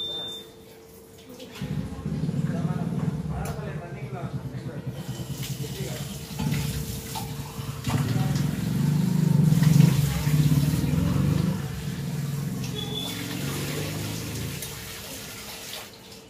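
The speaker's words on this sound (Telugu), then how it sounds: "ఇంక వాటర్ వచ్చేటప్పుడు నేను బియ్యం అయితే కడిగేస్తున్నాను." Tap water runs steadily into a vessel while rice is washed at home, a continuous splashing rush that swells midway, with a faint steady tone and some household sounds in the background.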